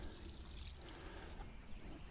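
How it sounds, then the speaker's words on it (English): Rainwater mixed with AgroThrive fertilizer is poured gently from a bucket onto a straw bale, giving a steady, soft trickling wash of water that runs continuously without talk. "So I'm just going to gently water that in."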